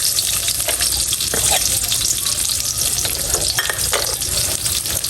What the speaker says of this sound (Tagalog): Magigisa na po ako ng sibuyas